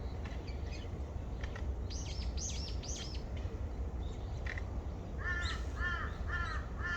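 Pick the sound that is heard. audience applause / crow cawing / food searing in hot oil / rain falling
crow cawing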